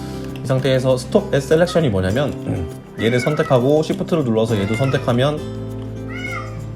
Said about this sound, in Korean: 저희 고양이가 지금 울고 있어요.